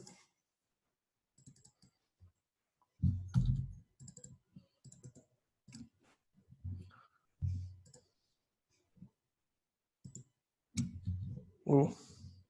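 A computer mouse clicks in short, scattered bursts, close and distinct, between stretches of near silence, with a voice speaking in places.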